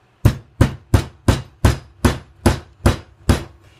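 A 2.5 pound sledgehammer strikes a railroad track anvil set on a log, giving ten sharp, evenly spaced metallic blows up close, each with a short decaying ring.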